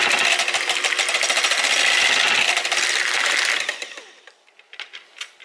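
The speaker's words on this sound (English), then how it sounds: "you're going to mix it again for the final time" An electric mixer whirs steadily through cheesecake batter with a dense, rattling buzz, then cuts off, leaving brief clicks and clatter.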